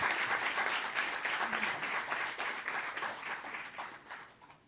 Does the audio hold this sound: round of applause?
yes